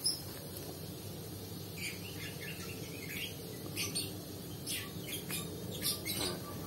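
A pet white-eye (pleci) bird chirps in short, bright bursts, scattered and irregular, fairly close over a low background hiss.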